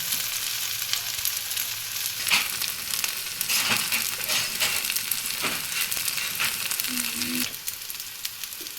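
Spinach vadas (palak vada) fry in hot oil with a dense, steady sizzle and crackle, with occasional spatula scrapes and bumps.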